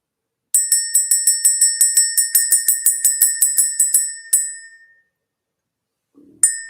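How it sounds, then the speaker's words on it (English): A small bell rung to clear energy gives a quick run of about twenty bright, ringing strikes, then one last ding that fades out, followed by a single fresh strike, loud and close with no talking. "Let's ring the bell."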